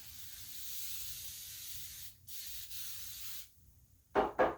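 Soft rubbing and spraying of spray starch on a uniform blouse, a faint steady hiss broken by short pauses and ending with two quick louder spray bursts.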